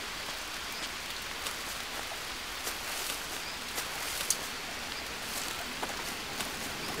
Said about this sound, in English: Clearly, it rains a lot in this area.